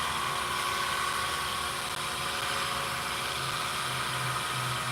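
A wood lathe spins a desert ironwood piece with turquoise inlay at about 2,000 RPM, giving a steady, close mechanical hum and whir with constant vibration and no break.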